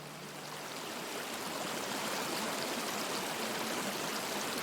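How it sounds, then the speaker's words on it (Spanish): Water streams steadily into the Cástaras irrigation channel (acequia) in the Contraviesa, a broad, even rushing wash that holds constant throughout, close and alone with no voices. "El agua que en estos momentos discurre hacia esa acequia, que es la acequia de Cástaras"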